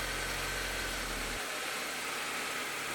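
The engine of an Audi or VW car runs steadily on a test drive after a CV axle repair, a low hum that drops away partway into a fainter rumble, with no speech.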